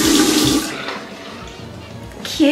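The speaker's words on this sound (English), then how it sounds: "Let's wash faces." Tap water runs steadily while a face is washed in a bathroom during a shower, a loud close rush that eases slightly midway, with brief splashing and no talk.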